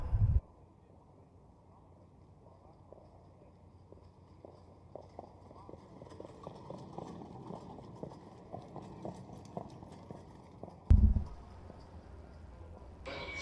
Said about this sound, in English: Horses on the track now for race 15